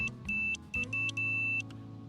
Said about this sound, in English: Not too loud of a horn, it's just a buzzer.